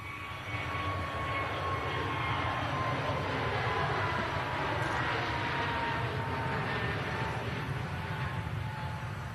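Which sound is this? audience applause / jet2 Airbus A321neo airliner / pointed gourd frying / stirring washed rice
jet2 Airbus A321neo airliner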